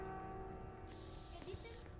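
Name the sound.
pepper spray being sprayed in video game Granny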